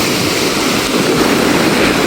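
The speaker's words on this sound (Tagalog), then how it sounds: "Malaking tubig ngayon." Large typhoon waves and swollen, rushing water near a river make a continuous, loud roaring wash that stays even throughout.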